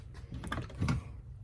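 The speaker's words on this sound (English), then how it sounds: "We'll go through the ratchets." A Channel Lock ratchet from a 200-piece mechanics tool set clicks close up, giving a short, quiet burst of coarse ticks from a mechanism with few teeth.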